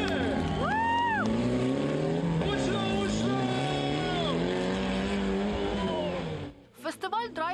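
Several battered old cars roar off together at the start of a paired skill race at the Drive for Life festival in Ukraine. Engines rev hard in rising, overlapping whines, loud and sustained, then cut off abruptly before scattered sounds at the end.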